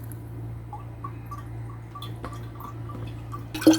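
Raw mango sherbet drips through a strainer in faint, close, regularly spaced drops over a low steady hum, ending in a louder brief splash.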